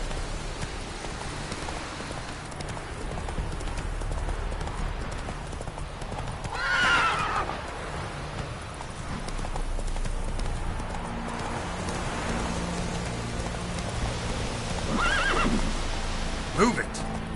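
Roach, the horse from The Witcher 3, trots with rhythmic hoofbeats and lets out a couple of clear whinnies, over a soft patter of rain and game voices speaking.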